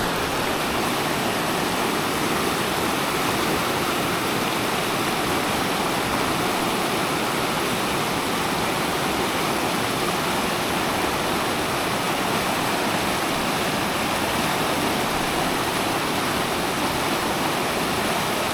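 Constant broadband rushing of water, loud and unbroken, like a fast river pouring over rocks nearby, with no voices or other sounds.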